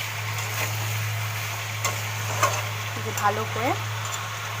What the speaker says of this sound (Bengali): বিটটা আর আলুটা কষে নিচ্ছি।